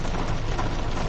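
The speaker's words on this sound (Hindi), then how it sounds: "दोस्तों यहाँ पे फिर बारिश शुरू हो गई है।" Rain falling outdoors near Shillong and Umiam Lake, a dense, steady hiss of drops on surfaces, loud and unbroken throughout.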